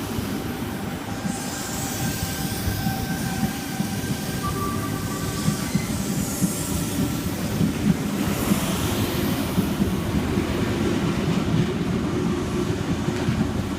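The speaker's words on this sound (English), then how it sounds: "C9 is the front 4 cars of this train departing platform 4." A Sydney Trains C set pulls away from a station platform at night, a steady broad rumble with faint tonal whines and sweeping passes, continuous and fairly loud against wind buffeting on the microphone.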